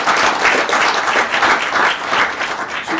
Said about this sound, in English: Come on, round of applause for that one.